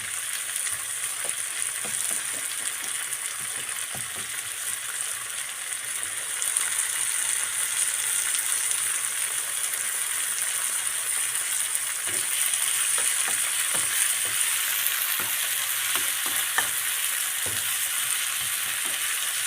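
Leeks sizzle steadily in a pan on an electric hob, a continuous bright frying hiss with scattered soft clicks and stirring taps, close and moderately loud, with no talking.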